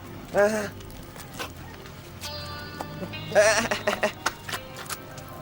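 Goats bleat in a few short, wavering calls, one near the start and a louder burst later, amid faint hooves and background movement.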